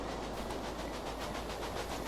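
A passenger and mail express train runs steadily in the rail-management game Railway Empire, a continuous low rumble with faint rhythmic clatter, heard alone without any talk.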